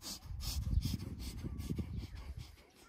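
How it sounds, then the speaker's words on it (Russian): A person does a rapid breathing exercise from the lower belly, sharp quick inhales and exhales repeating in a steady fast rhythm, close and fairly loud, fading slightly at the end. "Быстрые вдохи, выдохи и низом живота"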